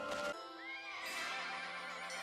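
Horse whinnying in a 1981 fantasy film, a single high, wavering neigh that rises and trails off, fairly clear and close over a faint background.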